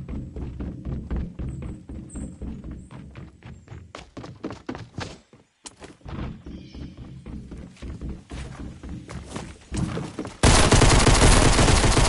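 Pistol firing three-round bursts in the DCUO video game, a long run of sharp, closely spaced shots in repeated clusters, loud and near, ending in a sudden burst of dense noise.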